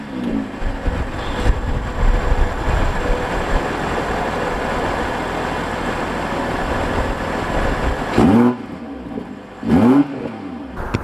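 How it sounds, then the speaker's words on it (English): A 2021 BMW M340i with a dual exhaust holds a loud, steady throaty drone, then gives two short sharp revs near the end with brief quiet gaps between them. "you've got the dual exhaust in the back, and it has a really nice throaty throttle sound."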